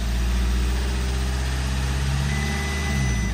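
A Mk6 Jetta Sportwagen engine with an oil pressure loss runs steadily at close range, a loud, continuous low drone that holds almost even throughout, with only a slight rise in speed toward the end.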